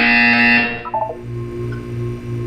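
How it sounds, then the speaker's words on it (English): A loud, harsh electronic buzzer sounds in a Portal 2 test chamber, holding steady for about half a second before cutting off. A low, pulsing hum continues afterward. "You will hear a buzzer."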